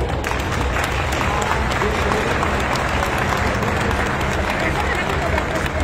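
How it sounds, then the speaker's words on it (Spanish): Dense applause from a large outdoor crowd at a traditional food fair and dish contest in Santiago de Anaya, loud and steady with crowd murmur and background rumble throughout. "pido un aplauso para él."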